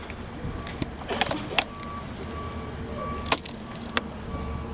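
Keys jangling and clicking as a key turns in the ignition of a Taotao ATM150-A Evo scooter, several close metallic clinks and rattles over a low steady background hum.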